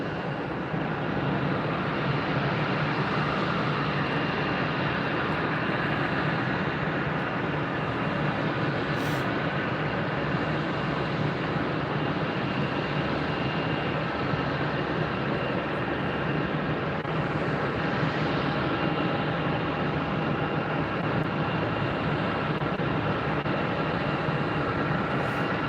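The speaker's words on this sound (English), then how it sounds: "This is Southwest 960 coming in from Nashville." A Southwest Boeing 737-7 airliner arrives at Tampa airport as a steady, distant broadband jet roar that holds evenly throughout, with no voices.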